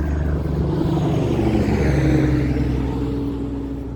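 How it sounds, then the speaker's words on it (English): A truck drives past nearby, a loud, broad engine rumble that builds to a peak midway and then slowly fades as it moves away, with no talking. "There goes another truck."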